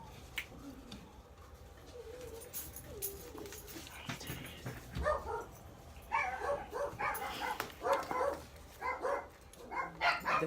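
A small dog, a Schnauzer mix, gives a series of short barks and yelps in an indoor setting, growing louder and more frequent in the second half, with faint background sounds and no talk.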